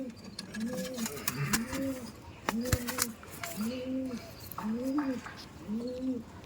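Pigeons sitting on their eggs coo in a slow series of about six rounded, throaty calls at an even rhythm, fairly close, with faint clicks and knocks between.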